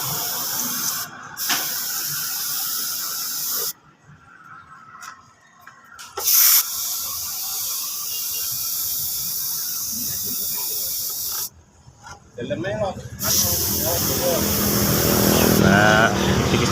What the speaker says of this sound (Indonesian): Ini setelah kering kita langsung semprot saja cat warna hitamnya.